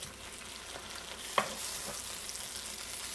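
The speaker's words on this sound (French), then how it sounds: "dans le wok, on va mettre un tout petit fond d'huile et on va venir faire revenir la pâte laksa pendant environ 1 à 2 minutes" Laksa paste fries in a thin layer of oil in a wok, giving a steady close sizzle with one brief sharper tick near the middle and no voices.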